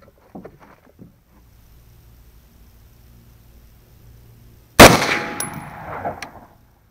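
One loud, sharp rifle shot at a 50-yard range cracks out close by after quiet handling sounds, followed by a decaying outdoor echo and faint rattles.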